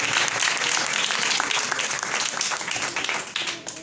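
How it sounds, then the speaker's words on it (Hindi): A church congregation claps loudly together in a dense, sustained burst of applause that thins and tapers off toward the end, with a few voices mixed in. "खुदा उनके खादमों के लिए जोर से तालियां बजा दें"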